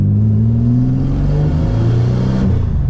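Tuned project car engine pulling hard at wide open throttle in second gear, a loud, continuous close-up roar whose pitch climbs steadily as revs rise, with no talking.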